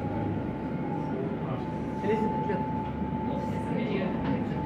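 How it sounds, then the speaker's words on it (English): A very busy train station in London, near Waterloo, heard as a steady wash of rail and crowd noise with a sustained tone running throughout and faint voices blended into the background. "Very busy train station."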